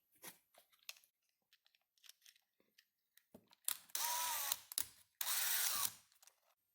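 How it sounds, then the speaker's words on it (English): Electric drill spinning a small acorn nut on a screw while a file works its edges, heard as two loud sustained bursts of rough grinding whir after scattered clicks and handling knocks. "The way I filed this down was to put it on the screw and then put it in the drill."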